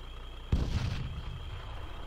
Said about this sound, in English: Did you hear that explosion there?